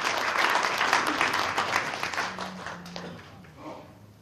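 Audience applause welcomes a speaker at a Christian New Year prayer breakfast in a hotel hall, a steady loud wash of clapping that slowly fades toward the end.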